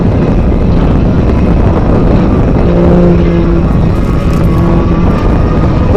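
A 400-horsepower aerobatic airplane engine at an air show gives a loud, steady roar with a droning tone, mixed with heavy wind rumble across the whole stretch.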